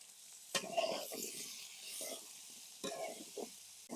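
Chunks of elephant foot yam being stirred in hot oil in a wok, soft scraping strokes over a quiet sizzle, two distinct stirring bursts close by with gentle bubbling between.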